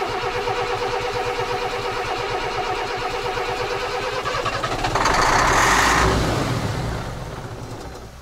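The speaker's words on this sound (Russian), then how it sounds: "сейчас попробуем запустить мотор" A Volvo engine cranks with a rapid rhythmic starter chatter, then catches in a louder surge and settles toward a rough idle, heard close up.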